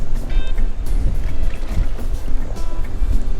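Steady wind buffeting and rushing over an open fishing boat on Lake Sakakawea, loud and continuous with low rumble and splashing water, no voices.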